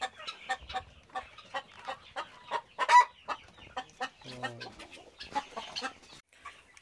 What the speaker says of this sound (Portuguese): Tem uma galinha aqui no chão querendo botar também.